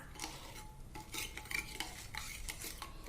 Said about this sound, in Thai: แล้วเราก็คนให้น้ำตาลละลายในน้ำร้อนนะคะ